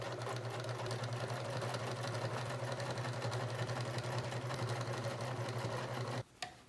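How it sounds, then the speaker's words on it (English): A sewing machine runs a zigzag stitch along the inside seam of a ruched crop top, humming steadily and evenly up close for about six seconds before stopping abruptly. "I'm actually just going to go back and add zigzag stitch on the inside just to lock it in"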